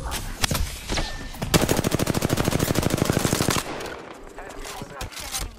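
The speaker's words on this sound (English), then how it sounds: "They're shooting at me." Gunfire in Apex Legends on PS4: a few scattered shots, then a long rapid automatic burst of evenly spaced rounds lasting about two seconds, followed by more sporadic shots, loud and close.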